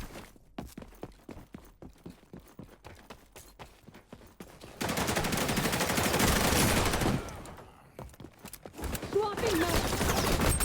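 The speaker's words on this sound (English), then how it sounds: "Looks like the shooting started already." Rapid automatic gunfire from the online shooter XDefiant, first as sharp scattered shots with footsteps, then a dense sustained burst of loud firing that breaks off and resumes.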